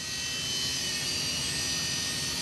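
A small E-flite Blade MSR RC helicopter hovers close by, its rotor giving a steady, even whirring buzz that holds throughout with no talk.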